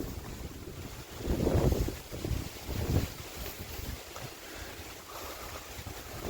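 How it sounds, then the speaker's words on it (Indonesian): Gusty wind buffets the microphone on the summit of Gunung Butik, a 1250 m mountain, with rough rumbling surges rising and falling over a constant airy hiss and no voices. "Anginnya"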